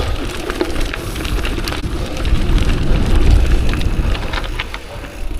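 A small mountain stream flows with a continuous rushing, splashing wash heard close, building slightly louder midway, alongside a mountain bike trail ride.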